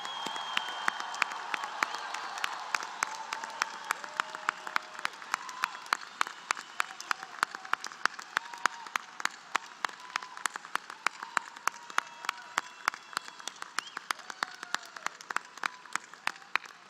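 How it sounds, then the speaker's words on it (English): Audience applause at a college of osteopathic medicine white coat ceremony for new student doctors, a long, even run of clapping with distinct sharp claps standing out and faint cheering mixed in. "how about a huge round of applause for all of our new student doctors?"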